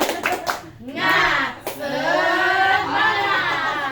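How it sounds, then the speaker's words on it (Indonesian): A group of people clapping together in a spirit-clap routine at a family parenting session, with rhythmic claps and shouted voices over a fairly loud, busy room. "berikan semangat dulu ya, tepuk semangat dulu ya"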